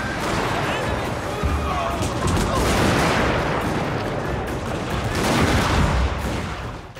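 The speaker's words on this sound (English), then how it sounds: "thousands of units line up and start taking shots at each other" Massed musket and artillery volleys rip across a Total War: Shogun 2 Fall of the Samurai battlefield, dense continuous crackling gunfire with heavy booms swelling and fading, loud, with a voice talking underneath.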